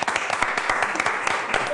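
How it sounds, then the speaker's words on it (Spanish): A studio audience at a Spanish-language television show applauds steadily for the whole short stretch, a dense, close wash of many hands clapping, with possible voices mixed faintly underneath. "les doy un fuerte aplauso por ese esfuerzo."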